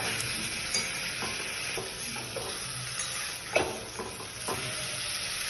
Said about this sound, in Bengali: এবার মটনগুলো কড়াইতে দিয়ে দেবো।